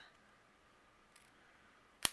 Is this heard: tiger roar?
no